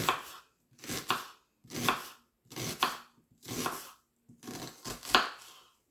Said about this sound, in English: That's how I cut my onions.